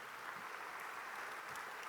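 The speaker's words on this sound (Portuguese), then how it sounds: "Quem pode dar um aplauso ao Senhor Jesus nessa manhã?" A church congregation applauds during a Sunday morning service, a steady, even wash of clapping that carries on throughout with no speech over it.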